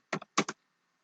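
Typing a database command on a computer keyboard: four quick key clicks in two close pairs, sharp and fairly near, with nothing else around them.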